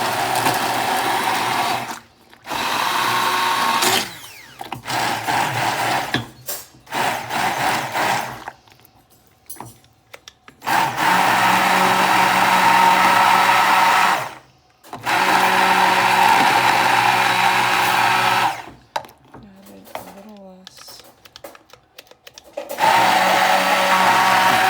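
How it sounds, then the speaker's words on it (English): Countertop blender whirring through beans and garlic in bursts, loud close motor runs of a few seconds each broken by short pauses, the pitch shifting as the mix thickens. "just gonna blend up these beans and this garlic"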